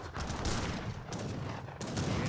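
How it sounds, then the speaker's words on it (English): Outposts firing in the real-time strategy game Age of Empires 3 during a Mexico versus Mexico match, a dense crackle of repeated gunshots layered into a continuous barrage with no voices over it. "Outposts are firing away."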